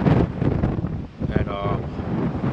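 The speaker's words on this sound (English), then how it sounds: "It's a beautiful morning, but it's pretty windy out here." Gusty wind buffets the microphone in rough, uneven blasts, with a faint murmur of water in the background.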